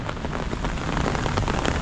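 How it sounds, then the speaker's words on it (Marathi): Heavy rain in the Konkan pours steadily and loudly, a dense close wash of drops drumming on surfaces with no voices over it. "तुफान पाऊस पडतोय."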